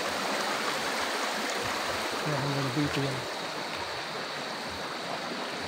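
Hot river water flows steadily at the San Benon hot spring resort in Irosin, Sorsogon, a continuous broadband rush close by, with someone speaking briefly over it.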